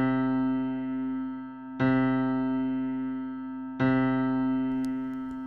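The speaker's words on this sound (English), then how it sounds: "we used a numerical simulation to play a note for every orbit of the outer planet" Sonified planetary orbits from a numerical simulation: sustained electronic harmonic tones with the note for each orbit of the outer planet re-struck twice at steady intervals, loud and alone with no talk.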